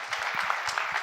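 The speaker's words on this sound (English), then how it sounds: "I want everybody to clap for this because that was real" Panel audience clapping for the panelists' work: a short burst of crowd applause, moderately loud and even, with no talk over it.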